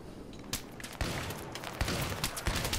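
Battlefield 3 combat gunfire crackles in sharp, irregular bursts of rapid shots, some close and punchy, others farther off, against a busy battlefield background.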